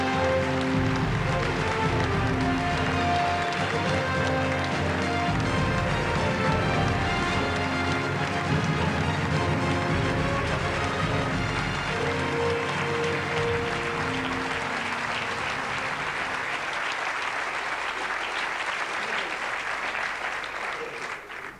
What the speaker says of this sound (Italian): venisse sul palcoscenico a raccogliere l'applauso del suo pubblico